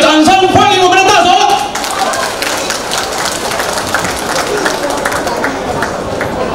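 An audience at a New York Fujianese association anniversary gala applauds to welcome the ambassador. A voice speaks over a public-address system first, then a sustained round of clapping from a large crowd fills the hall.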